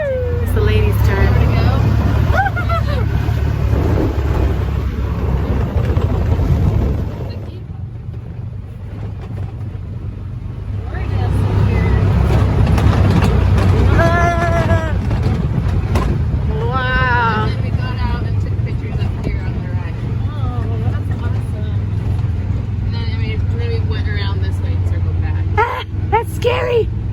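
Rumbling engine of a Razor side-by-side off-road vehicle driving steadily for the whole stretch, with a dip midway, while people chatter, exclaim and shout excitedly over it.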